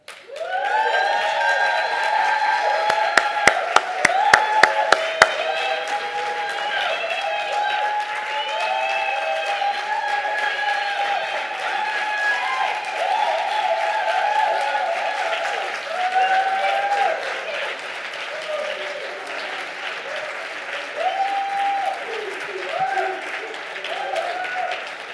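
An audience at an entrepreneur networking and showcase event applauds steadily, with a few sharp nearby claps early on and crowd noise carrying on through the rest.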